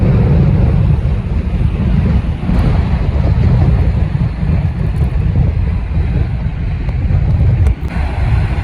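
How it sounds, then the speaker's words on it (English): Waves surge through the St Lucia river mouth in stormy seas, a loud, constant low roar of churning water heavily mixed with wind gusting across the microphone, with a brief dip before rising again. "there's some good wave action coming through here"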